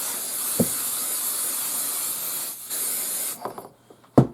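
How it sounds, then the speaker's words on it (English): Spray adhesive hissed onto embroidery stabiliser stretched flat in a hoop: one long steady spray burst, then a couple of short puffs, with light handling taps and knocks. "And I do spray quite a bit"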